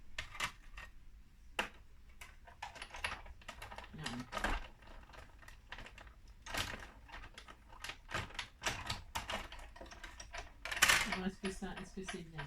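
Holes punched by hand through craft paper for card making: a series of irregular sharp clicks and crunches, close and fairly quiet, with a soft voice speaking in between.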